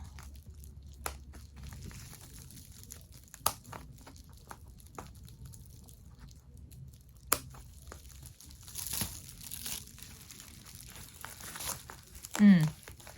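Scissors snip and crunch through crinkly car windshield sunshade material in scattered cuts, close up, with soft rustling between them and a short squeak near the end.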